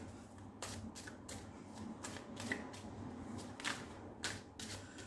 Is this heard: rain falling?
no